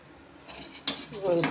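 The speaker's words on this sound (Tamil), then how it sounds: "இது கொஞ்ச நேரம் அப்படி கலக்கி விடுங்க." A metal spoon stirring boiling milk scrapes and clinks against a pot, with faint stirring noise and a few sharp knocks near the end.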